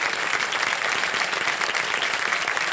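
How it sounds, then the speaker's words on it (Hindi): Studio audience on a quiz show applauding a contestant, dense even clapping throughout, loud and steady with no talk over it. "तालियां बज जाए इनके लिए जोरदार"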